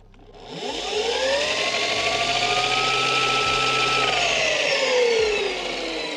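An electric dirt bike motor on a boosted controller winds up into a steady, loud, high whine with rising tones that hold and then taper, close and continuous without speech.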